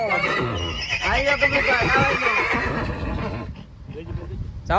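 A horse lets out a long, quavering whinny close by, loud and drawn out, with people's voices around it.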